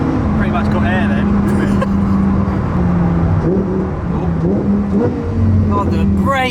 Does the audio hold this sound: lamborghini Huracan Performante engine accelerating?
yes